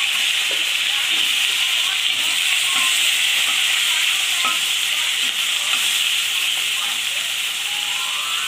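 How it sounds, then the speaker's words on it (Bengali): Bata fish frying in hot mustard oil, a loud, steady, close hissing sizzle with occasional crackles and faint spatula touches throughout, no talking. "মাছ কটা ভেজে নিই।"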